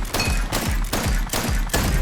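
Rapid Leveredge lever-action rifle shots in the Western shooter game Far Far West, five sharp booming reports about every third of a second, loud and close, with no talk.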